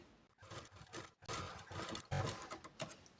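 A sewing machine runs a straight seam along blouse piping in quiet, uneven bursts of rapid mechanical ticking with brief pauses, heard faintly and alone.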